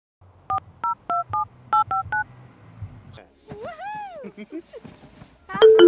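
Telephone keypad dialing in The Sims 3: a run of about nine short, evenly spaced dual-tone beeps, followed by softer game sounds and a brief louder tone at the end.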